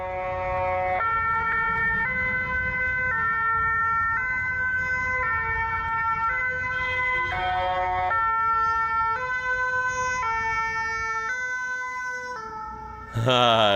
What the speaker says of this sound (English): That one's like a good siren. This is in Belgium, by the way.